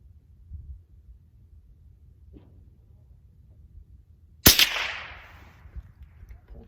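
A single sharp rifle shot from a Stevens Model 416 cracks loud and close, followed by a short decaying echo after a quiet stretch of faint background rumble.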